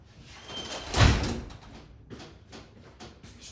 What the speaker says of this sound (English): My door keeps opening, didn't get latched.